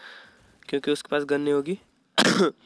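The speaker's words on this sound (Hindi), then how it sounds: "थोड़ा बारिश का मौसम है तो खांसी वगैरह हो जाती है" A man coughs and clears his throat twice in short, rough bursts between bits of his own speech during a gaming session, close and fairly loud.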